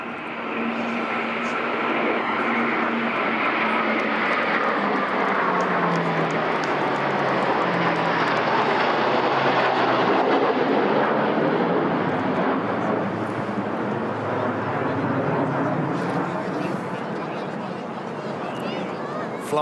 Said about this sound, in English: 3 aircraft next, a Poseidon P-8, which is escorted here by 2 Typhoon.